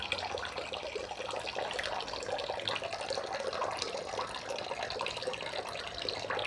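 Water drains steadily from grated coconut as its milk is pressed out during homemade coconut oil preparation, a faint continuous trickling stream with no voices.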